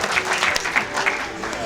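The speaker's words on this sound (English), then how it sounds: "Give him a round of applause." Brief burst of audience applause during a comedy hypnosis stage show, busy crowd clapping with some voices or laughter mixed in over it.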